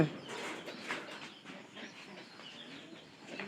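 Pigeons coo softly at a distance in a quiet loft, a newly paired bird among them, with low murmuring calls repeating irregularly against faint background noise.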